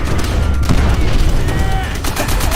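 A cannon fires a rapid stream of shots at a wooden guard tower in a video game, a loud continuous barrage of booms and crackling impacts.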